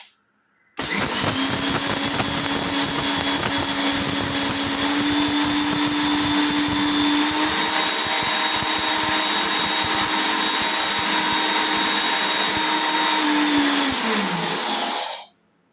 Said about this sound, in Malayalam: മിക്സിയിൽ ചാറിലിട്ട് കുരുമുളക് ഇട്ടിട്ട് നമുക്കതൊന്ന് പൊടിച്ചെടുക്കാം